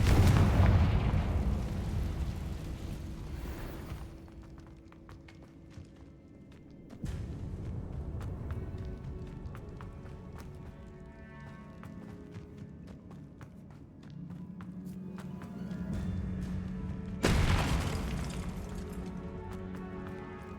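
Confringo blasting spells set off explosions in the Hogwarts Legacy video game: three loud booming blasts at wide intervals, each trailing into a rumbling decay, with no talk.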